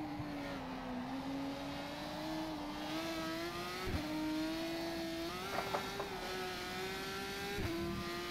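GP3 single-seater race car in the rFactor 2 sim, lapping the Algarve circuit in an online winter series race: a continuous, fairly loud engine drone whose pitch rises and falls steadily, with brief dips around gear changes.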